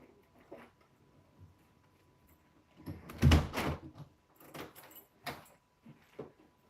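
Someone at a home door makes a brief burst of knocking and handling sounds, a cluster of sharp thumps and clacks in the middle of an otherwise quiet room.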